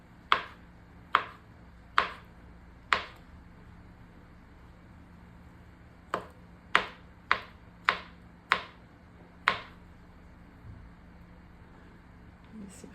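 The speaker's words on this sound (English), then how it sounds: "I'm gonna try to slice them in a way that you can kind of appreciate the mushroom structure" Knife slicing mushrooms on a cutting board: a run of crisp, evenly paced knocks, four at first, then a pause, then six more in quicker succession, close and distinct over a quiet background.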